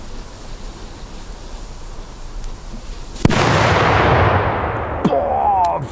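After a few seconds of quiet outdoor background, a Polish Polenböller firecracker goes off in one sharp, loud bang, followed by a long rumbling echo and a couple of faint crackles as it fades.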